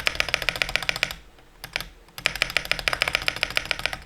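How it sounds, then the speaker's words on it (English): Rapid typing on a mechanical keyboard with a hard bottom-out, close-up and crisp, with a brief pause mid-way before the keystrokes resume in a steady, clattering rhythm. "it has like a hard bottom out when you type on it that feels like more like a normal mechanical keyboard"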